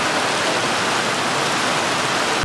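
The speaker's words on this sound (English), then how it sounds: "the rain can never stop us from exploring" Steady heavy rain falls in Munnar, Kerala, a dense continuous hiss with no breaks, loud and close throughout.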